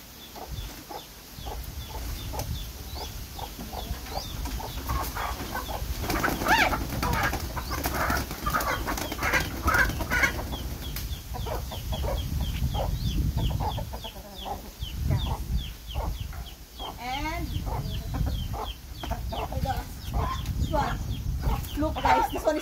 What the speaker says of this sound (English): So now the chicken is there inside the cage